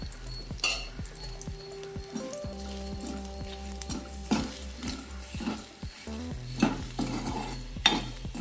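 Gongura chutney is sautéed in a generous amount of oil, giving a loud continuous frying sizzle under repeated close spatula strokes and scrapes against the pan; no talking.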